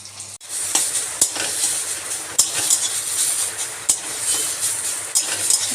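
Steady sizzling in a pan with periodic scraping clicks of a spatula stirring, a few sharp knocks against the pan, no voices.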